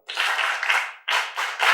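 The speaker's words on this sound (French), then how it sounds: "Les amis, applaudissez pour la guérison et le retour de Kossi à l'école" An audience at an outdoor health-promotion film screening in Place Vodoun Honto bursts into brief, dense clapping: a close burst of applause, a short gap, then two more quick rounds.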